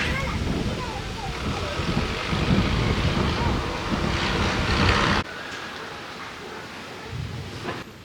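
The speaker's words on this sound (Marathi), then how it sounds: "एवढी हवा सुटलेली ना, कपडे हे सगळं आमचं वाऱ्यानं उडून चाललेलं वरती" Strong wind gusting across a village farm home before rain, heavy buffeting roar against the microphone that drops abruptly to a calmer hiss partway through, with people talking.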